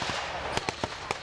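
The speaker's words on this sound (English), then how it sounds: "with all the gunfire that's going around" Gunfire at a WWII battle reenactment with German troops and armoured half-tracks: five sharp, fairly close shots crack out at irregular intervals over a constant outdoor background din.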